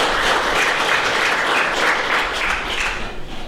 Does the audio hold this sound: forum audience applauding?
yes